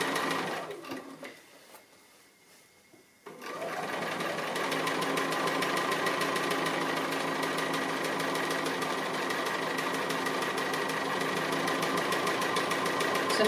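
A sewing machine stitches appliqué around a fabric wheel: a quiet, rapid, even whirring hum that starts after a short pause and then runs continuously and steadily, close up, with no voices.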